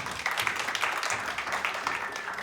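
An audience at a live comedy show claps its hands in a scattered burst of applause, moderately loud and fairly close, with no speech over it.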